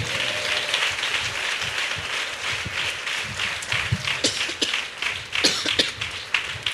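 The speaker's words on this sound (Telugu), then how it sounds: "చప్పట్లు కొట్టండి గట్టిగా" Audience applause at a church gathering, a dense patter of many hands clapping at moderate distance, with a few louder nearby claps toward the end.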